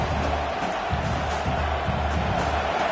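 Crowd noise at a football game, a continuous roar of cheering spectators, moderately loud and steady throughout.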